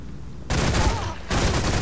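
Gunfire in the stealth video game Velvet Assassin: a sudden dense burst of shots erupts loud and close, a brief lull, then a second sustained volley.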